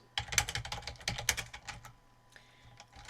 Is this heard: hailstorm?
no